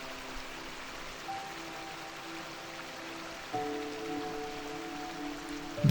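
Monsoon rain falls steadily in the Mhadei forest, a soft, even hiss of drops on leaves and ground that thickens slightly partway through, with a faint tonal hum running underneath.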